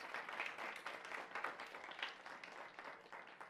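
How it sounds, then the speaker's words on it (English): A scholars reception crowd gives a round of applause for principals, teachers and counselors, a dense, even wash of many hands clapping at a modest, somewhat distant level throughout. "Let's give them a round of applause."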